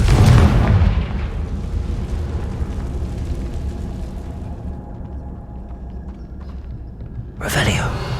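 A spell blast in Hogwarts Legacy explodes with a loud, close boom that fades into a long, low rumble, then a second sharp burst near the end.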